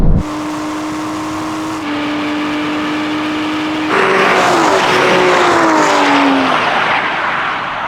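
A V12 Aston Martin Rapide accelerates hard in a drag race, its loud engine note climbing through gear changes with clear shifts and a roar that swells as the car pulls away.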